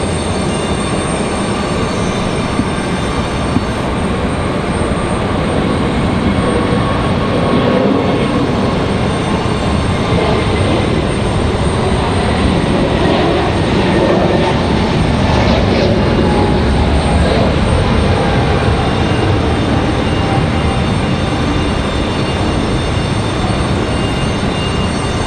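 A Southwest Airlines airliner arriving from Nashville at Raleigh-Durham airport gives a constant, loud, broadband engine rumble that stays steady throughout.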